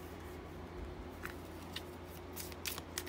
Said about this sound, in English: that was because of my shuffling, not because it flew out